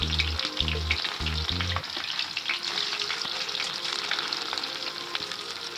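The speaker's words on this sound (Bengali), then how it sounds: "পেঁয়াজটা নেড়ে চেড়ে ভালো করে ভেজে নেব।" Chopped onions sizzle and fry steadily in a pan with mustard seed and a dried red chilli, stirred now and then, with a brief tonal hum at the start before the loud, continuous crackle carries on alone.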